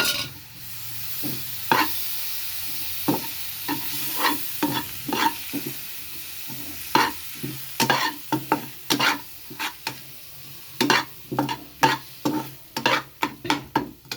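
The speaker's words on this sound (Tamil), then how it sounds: "நல்லா பச்சை வாசனை போகிற அளவுக்கு நல்லா வதக்கி விடுங்க" Tomatoes sautéing in a pan for fish chilli, with repeated sharp scrapes and stirs of a utensil over a steady close sizzle, the strokes growing quicker toward the end; no talking.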